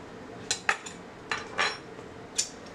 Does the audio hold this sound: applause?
no